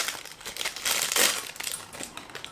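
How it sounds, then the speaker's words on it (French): Plastic packaging from an AliExpress haul crinkles loudly up close as it is opened, a continuous rustling crackle that swells in the middle and then fades into lighter crinkles. "Je vais les ouvrir, je n'ai même pas encore ouvert, ça fait du bruit."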